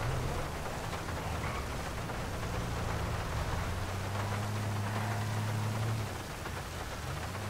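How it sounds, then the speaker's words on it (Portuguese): Steady, dense rain falling in the video game GTA V, a constant loud hiss across the whole stretch with a low droning hum of traffic underneath. "Está de facto muito bem feita esta pormenor aqui da chuva a cair."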